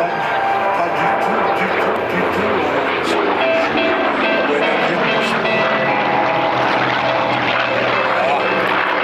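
A loud Corsair propeller aircraft engine drones steadily throughout at the La Ferté-Alais airshow, a dense continuous roar with a slight pulsing, close and unbroken.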